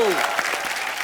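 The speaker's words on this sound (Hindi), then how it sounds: "एक बार ऋषि सर और नीतू मैम के लिए जोरदार तालियां हो जाएं।" At a comedy talk show taping, a studio audience applauds in a short, dense burst of clapping, with a brief trailing voice at the start.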